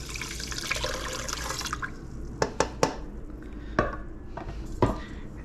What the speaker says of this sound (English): I have 2 cups of water for my 2 cups of rice. So just going to pour that in here.